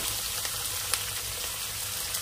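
Whole spices and dried red chilies sizzle steadily in hot oil for a tempering for pulihora tamarind rice, a constant close frying hiss with faint pops throughout.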